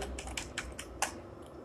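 Keys tapped on a computer keyboard while typing a headline, about six crisp, close clicks in quick uneven succession, then a pause, with no voice.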